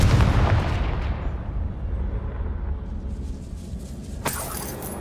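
A Confringo fire spell detonates in Hogwarts Legacy with a heavy booming blast at the start, followed by a long rumbling decay and a sharp crackling burst near the end, with no talking.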